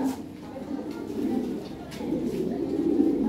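Lahore pigeons coo in soft, low, repeated throaty calls close by, overlapping in a gentle rolling rhythm, with faint background murmur.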